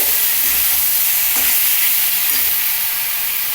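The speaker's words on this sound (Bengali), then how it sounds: "পনিরটা তেলের সঙ্গে ভেজে নিচ্ছি" Paneer frying in hot oil in a pan, a loud continuous sizzle with occasional stirring scrapes, no voices.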